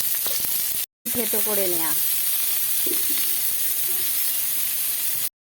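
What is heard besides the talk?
frying onions and cumin in a pan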